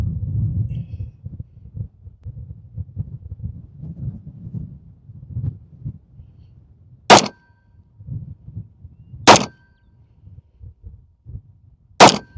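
Three sharp gunshots from a Rock Island Armory 1911 pistol firing 40 grain 22 TCM rounds at 7 yards, spaced about two seconds apart over a low outdoor rumble.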